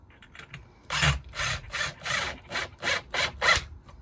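Screw fitted with a fender washer being driven into wood while insulating a whole house fan, a rhythmic run of about seven close, loud ratcheting grinds, each burst under a second, with no talk.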